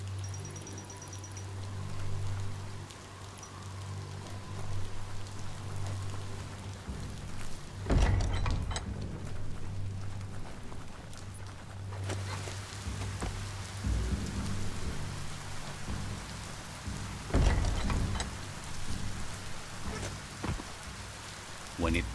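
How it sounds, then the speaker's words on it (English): Steady rain pours down in the Biomutant game world, a dense continuous hiss with occasional heavier bursts and low rumbles of thunder, with no voices. "When it rains, it gets wet."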